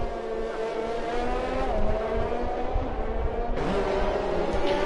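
A train of race cars running behind the safety car around the Baku circuit in a racing video game, engines droning loudly and steadily, with a shift in pitch as the pack passes.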